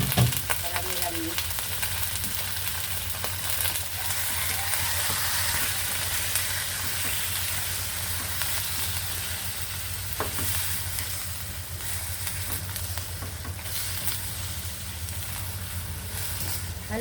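Chicken pieces for adobo fry steadily in a pan, giving a continuous close sizzle and hiss with occasional stirring clatter throughout.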